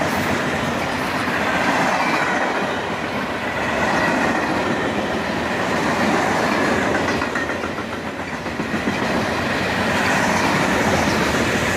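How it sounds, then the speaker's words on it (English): CSX 718, a northbound freight train carrying a load of rails right behind the locomotive, cruises past with a loud, steady rumble and rhythmic wheel clatter that swells and eases slightly, with no voices. "CSX 718 highballs it north with a load of rails right behind the locomotive."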